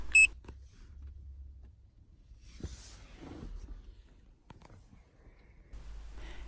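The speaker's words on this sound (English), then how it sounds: "Green LED lights up and a beep sounds." A ProSmart v3.1 key programming device, plugged into the OBD connector of a 2019 Lexus RX300, gives one short, sharp beep at the start, followed by faint rustling and handling noise.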